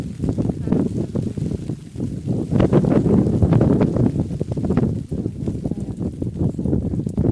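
Strong wind buffets the microphone in a loud, continuous low roar, gusting harder in the middle, with no voices.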